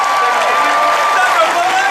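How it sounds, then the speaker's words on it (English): Audience at a San Diego Comic Con 2013 panel for the film Gravity clapping and cheering, a dense, steady wash of applause with whoops and whistles rising through it. "Please keep your applause going."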